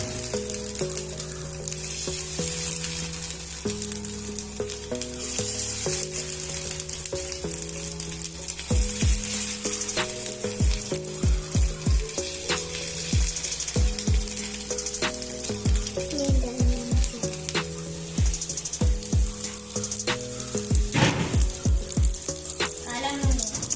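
Cutlets fry in oil in an iron pan on a stove, a loud continuous sizzle with occasional scraping stirs and clinks, while background music plays throughout.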